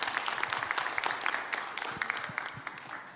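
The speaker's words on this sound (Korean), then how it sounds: "박수로 마치겠습니다." An audience at a forum session on overcoming hatred claps to close the session, a dense patter of many hands that stays moderately loud throughout and tapers slightly at the end.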